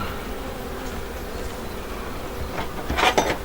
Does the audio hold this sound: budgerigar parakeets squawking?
no